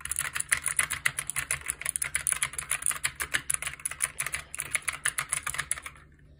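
Rapid, clicky keystrokes rattle on a gaming keyboard in quick bursts for several seconds, then stop.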